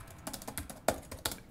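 Quick, irregular clicks of typing on a 2014 HP Chromebook 11 G2 laptop keyboard, close and fairly soft, with a few sharper key strikes standing out.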